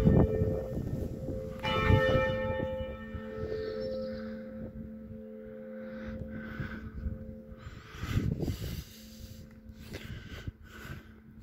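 Church bells of Stadtlauringen ring with steady, sustained tolling, a rich layered peal with a long hum, heard at moderate distance outdoors with faint ambient noise around.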